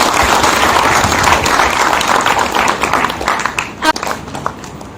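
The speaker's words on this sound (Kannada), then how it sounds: "ಆ ಒಬ್ಬ ಕಾಲಜ್ಞಾನಿ ಮಹಾ ಋಷಿಗೊಮ್ಮೆ ಜೋರಾದ ಚಪ್ಪಾಳೆ." A hall audience at a trust's anniversary award ceremony claps loudly and steadily, a dense wash of applause that holds for several seconds before thinning out with a few last claps.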